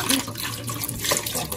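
Tap water runs steadily into a kitchen sink while raw salmon is washed for a honey glazed dish, a continuous close splashing hiss with no talk over it.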